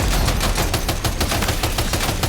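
Machine gun fire in the video game Death Stranding 2, a dense, continuous burst of rapid shots lasting a couple of seconds, loud and close with no talking over it.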